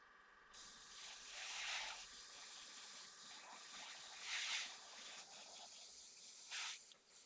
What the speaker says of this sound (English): So I'm just spraying at usual 8 psi.